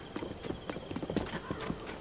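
A horse walking in Tears of the Kingdom, a brisk run of soft clip-clop hoofbeats close by, fairly quiet, with a faint background tone.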